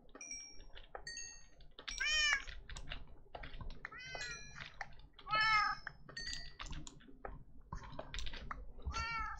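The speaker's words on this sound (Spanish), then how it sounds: "¡Ah, son gatos gigantes! Porque hay gatos gigantes." Giant cats in modded Minecraft meow several times in high, rising calls, two louder bursts standing out, over a steady bed of keyboard typing and clicks.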